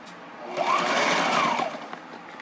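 A sewing machine runs in one steady burst of about a second, stitching a rolling pleat in fabric aboard a sailboat; the whirring motor sounds close and fairly loud, with no talking.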